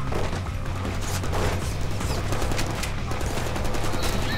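Rapid gunfire from the Deadpool video game: dense, continuous volleys of loud shots crackling close by, with no pause across the stretch.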